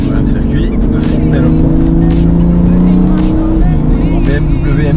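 A BMW M2 Heritage drives hard around the Fontenay-le-Comte race circuit on a trackday, its engine droning loud and steady with pitch shifts as it changes speed, heard close from inside.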